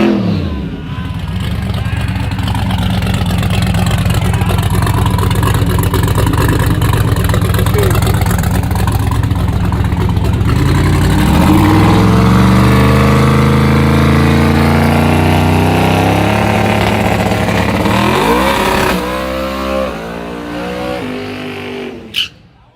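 Race car engines at a Sunday night street drag race, loud and close, holding a steady idling drone before climbing revs and a full roar near the end, with people talking over them.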